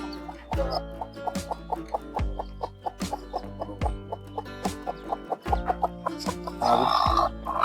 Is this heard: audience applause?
no